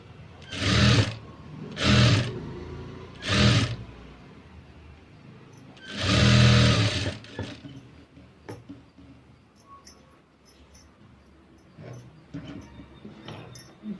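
Short bursts from a sewing machine stitching the edging of a princess-cut blouse: three quick runs, then a longer one, followed by faint quieter handling.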